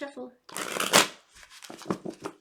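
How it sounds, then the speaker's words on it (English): A deck of tarot cards is shuffled in quick riffling bursts, close and crisp, with a brief voice speaking at the start. "Gotta give it another good shuffle."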